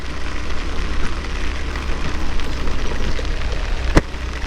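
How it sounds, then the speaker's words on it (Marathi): Heavy rain pours steadily during a motorcycle ride in the Konkan countryside, a dense continuous hiss with low rumble and wind, with one sharp brief knock near the end. "बघा पूर्ण पाऊस पडतोय"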